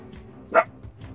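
A dog gives a single short bark in the middle, moderately close, with quiet indoor background around it.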